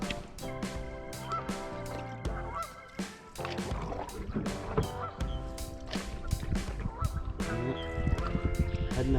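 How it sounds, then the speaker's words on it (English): Wild turkeys gobble from the bank of the Grand River at sunrise, a series of loud, rapid, harmonic calls overlapping one another, fairly close, with no talking. "Got some turkeys over there. Didn't even notice them until I heard them gobble."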